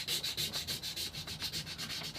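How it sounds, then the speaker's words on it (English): Sandpaper rubbed back and forth over guitar frets during a refret, levelled fret ends being smoothed; a steady, close, rhythmic scratching of about ten strokes, heard alone. "I'm making sure that the ends of the frets come in for a little bit of a sanding, so that it just helps smooth those off even more"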